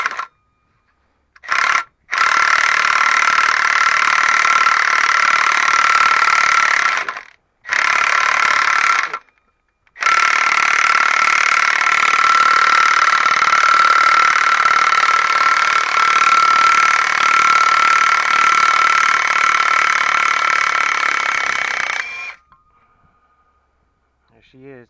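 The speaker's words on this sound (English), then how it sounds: "I always use an impact just to make it go quicker." Impact wrench with a 13 mm socket driving a puller to remove the pressed-on power steering pump pulley from a 1995–96 Chevrolet LT1 Caprice/Impala SS, hammering in loud sustained bursts with two short pauses early on before stopping.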